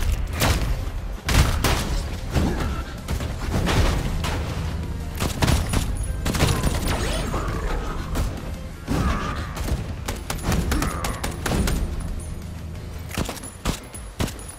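Gunfire, thuds and booms from the arena combat game Kiborg Arena pop irregularly through a busy stretch of fighting, with loud close hits scattered over a continuous game backdrop.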